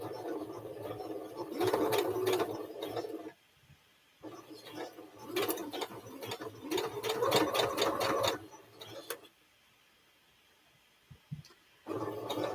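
A sewing machine stitching a bag, running in steady rapid bursts of a few seconds each, separated by short pauses, close and fairly loud.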